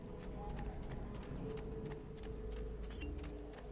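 Horse hooves clip-clop in Assassin's Creed II, a quick, steady run of soft hoofbeats heard faintly beneath someone talking throughout.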